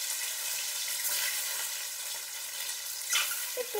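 Egg slid into hot oil for a Bengali mustard-poppy-seed steamed egg dish, giving a steady broadband sizzle that holds level throughout with a brief brighter burst near the end.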